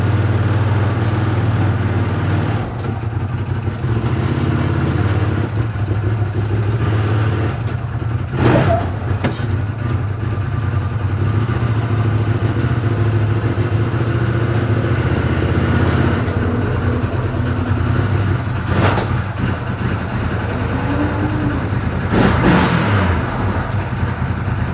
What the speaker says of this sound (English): I will never get tired of the way that engine sounds